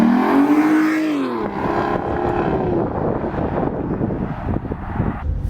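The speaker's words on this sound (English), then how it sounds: "So driving the Aston Martin DB9" A 2005 Aston Martin DB9 with a V12 engine, driving: a rising engine note settles into a steady, close cabin drone with road rumble.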